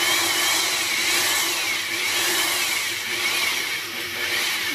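Bead roller rolling a bead into sheet metal, a continuous whirring mechanical hum with a bright rasping edge, steady and close throughout.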